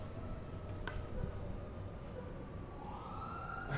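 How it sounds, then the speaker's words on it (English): An emergency-vehicle siren, a fire truck passing outside, wails faintly and steadily in the distance, its rising tone sitting under a constant low hum of room and traffic noise. "hold on for 1 second while that the siren goes by"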